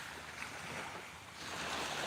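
High-tide waves, pushed up by storms, wash against the shore in a steady, broad rush mixed with wind noise, swelling slightly toward the end.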